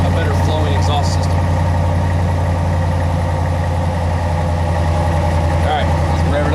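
A Ram pickup truck with a Flowmaster Flow FX muffler idles on a cold start with a steady, deep exhaust rumble throughout, loud and close, with no change in pace.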